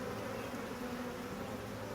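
Honey bees from a package buzz in a steady, dense drone filling the space, close and continuous with no voices.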